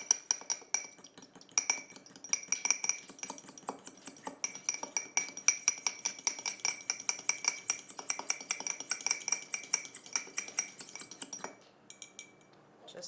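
Egg yolk and milk being mixed in a bowl with a utensil, producing rapid, rhythmic clinks and taps against the dish that continue for about eleven seconds before a short scrape and quiet end.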